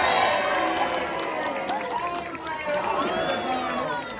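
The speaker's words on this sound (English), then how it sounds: "give him a big cheer when he gets to the end" Audience at a sea lion show cheering and clapping as a sea lion jumps off a tower, with a steady crowd roar and overlapping excited voices and a presenter talking.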